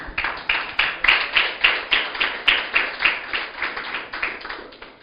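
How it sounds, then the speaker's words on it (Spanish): Rhythmic clapping from a church congregation during a Spanish-language sermon, a steady beat of about three claps per second, fairly close and loud, with no talk over it. "Palmas para Cristo."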